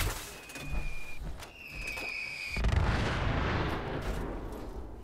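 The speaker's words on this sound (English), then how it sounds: "I think there's six explosions in there." Mini nuke detonations from the Fallout 76 weapon The Guarantee Fatman roll out as heavy booming blasts with sharp crackling bursts and a long rumbling tail, loud and dense with no speech.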